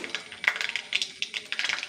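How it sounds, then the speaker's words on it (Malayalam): A quarter spoon of mustard seeds pops in hot oil, making a fast run of small, faint crackling pops close by. "കടുക് പൊട്ടി"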